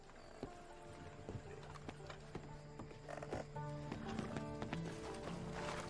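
Horse hooves clatter in a quick galloping rhythm in Red Dead Redemption 2 Online, close and steady over game music and ambience, with a few brief whinny-like tones.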